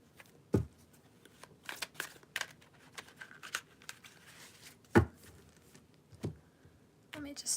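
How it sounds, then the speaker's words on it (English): Tarot cards are shuffled and riffled in quick, crisp bursts with soft papery flicks and taps between them, close and fairly quiet. "Let me just do a quick shuffle without blowing my cards out."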